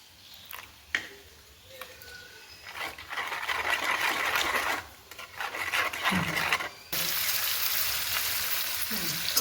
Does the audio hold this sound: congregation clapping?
no